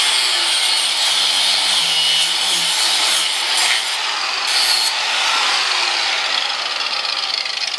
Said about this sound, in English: if you're going to use an angle grinder, make sure it's in gear